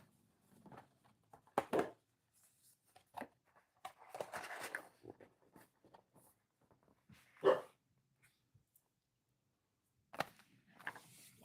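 Dogs bark indoors in a few short, separated bursts with quiet gaps between, near and moderately loud, a brief whimper-like sound mixed in.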